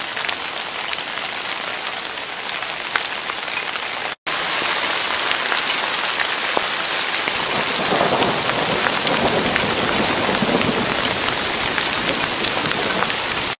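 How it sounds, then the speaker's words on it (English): Steady heavy rain and hail pour down in a thunderstorm in Yosemite, a dense hiss of drops striking surfaces, a brief dropout near the start, and low thunder rumbling in the distance. "Hour number 2 of thunderstorm and now hail."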